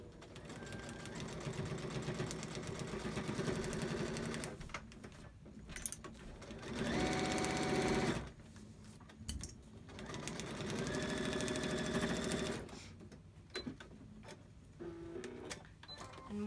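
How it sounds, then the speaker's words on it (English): A sewing machine stitches a quilt block seam in steady whirring runs, stopping and restarting several times, with quiet pauses between the bursts of stitching. "we're going to sew right along the solid line"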